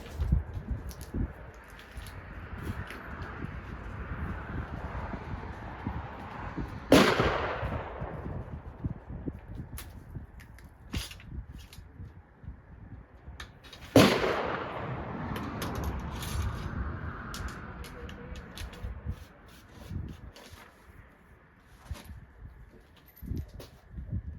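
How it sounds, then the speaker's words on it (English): Two loud gunshots from an original Austrian M1854 Lorenz rifle-musket ring out several seconds apart, each with a long echoing decay, amid steady outdoor background noise. "there's going to be gunshots soon"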